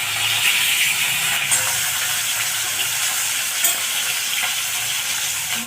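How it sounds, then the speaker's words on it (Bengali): Pieces of rohu fish frying in hot mustard oil, a steady close sizzle and crackle with a few brief spatters, continuous throughout with no talk. "এক পিঠ ভাজা হয়ে গেছে,"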